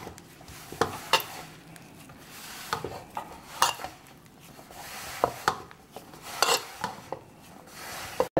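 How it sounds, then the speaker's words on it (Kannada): Sugar and milk being mixed by hand into dough for shankarpali sweet diamond cuts, with irregular scraping, stirring and clinking against a bowl, several sharper knocks standing out. "ಹಾಲು ಹಾಕಿ ಕಲಸ್ಕೋಬೇಕು."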